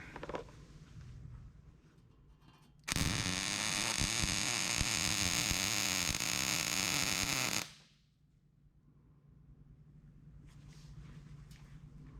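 MIG welder laying a bead on thin sheet metal for a custom tool tray, a loud, steady crackling buzz that starts abruptly, holds for about five seconds, then cuts off, with quiet shop rumble before and after.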